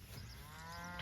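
Cattle low faintly during a drive of yearlings, cows, bulls and calves moving down a road to a farm in severe drought, a single distant moo rising under steady wind-like background noise.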